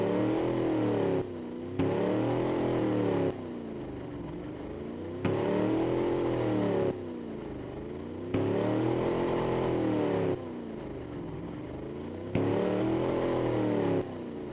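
A V8 car engine in the Automation game revs repeatedly, loud bursts of rising and falling pitch alternating with quieter idle stretches, in a steady cycle of about five revs.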